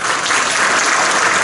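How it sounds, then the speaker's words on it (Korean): A room of students clapping together in a classroom, a dense, even burst of applause lasting a moment, loud and close, with no voices over it. "다 박수 한번 쳐봐요."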